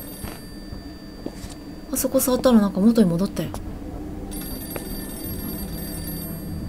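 A telephone rings faintly in the horror game April 24th, a thin steady ringing that sits low beneath people talking.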